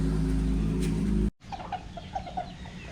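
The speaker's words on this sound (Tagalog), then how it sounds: "Ang mga manok ni Lolo Boy." Chickens cluck and chatter at feeding time, heard after a loud engine-like drone cuts off, a few close clucks over a quiet yard.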